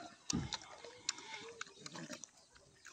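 A black pig on a rural provincial farm grunts in short, close bursts while it is fed and eats, with scattered snuffling and clattering noises between the grunts.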